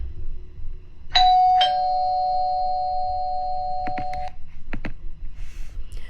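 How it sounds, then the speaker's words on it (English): A steady electronic chime tone sounds, switches pitch and holds for a few seconds, then a few short beeps follow, loud and clear over faint background hum. "I hear another sound that sounds very similar to the alarm that I set, which was this."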